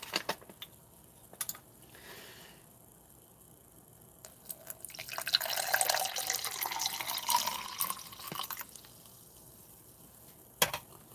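Water pours into an MRE drink-mix pouch for a maltodextrin and lemon drink, starting with scattered drips and rustles, then swelling into a steady, close stream for a few seconds before trailing off.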